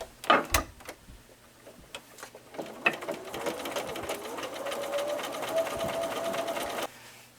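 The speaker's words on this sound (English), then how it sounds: "So then sew those two pieces together and you'll have a finished 4-inch block." A sewing machine stitches quilt block pieces together for a 4-inch Hunter's Star block: a few sharp clicks, then a close, steady mechanical whirring that runs for several seconds before stopping.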